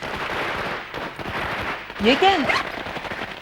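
Firecrackers crackle and pop in rapid, continuous bursts near an engagement celebration, thickening into a louder volley toward the middle, while a voice asks a short question over the noise.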